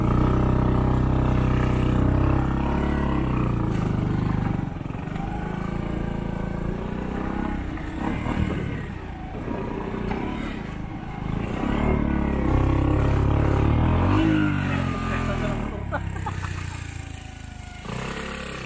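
A motorcycle rides steadily along a coastal road in Tigbao, Aroroy, Masbate, its mid-pitched engine droning loud and close throughout with shifting revs and wind rush, and no talk over it.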